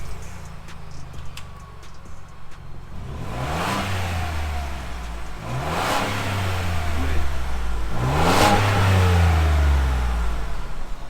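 Engine and tire noise from inside the cab of a Ford Bronco, swelling through three moderate accelerations over a constant road rumble, with the exhaust barely noticeable.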